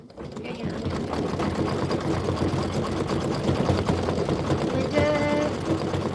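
A sewing machine stitching steadily at tabletop range, a close, continuous mechanical whir with rapid needle clatter that runs the whole stretch while a person talks over it.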